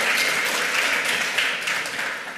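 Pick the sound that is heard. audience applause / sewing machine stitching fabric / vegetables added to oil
audience applause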